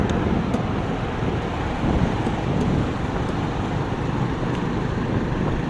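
Steady, heavy wind rush mixed with continuous road traffic, heard while riding a bike on a morning road. The noise is loud and unbroken throughout, with no talking.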